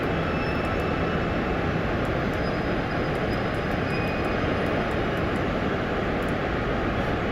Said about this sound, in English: these nuclear engines just sip the fuel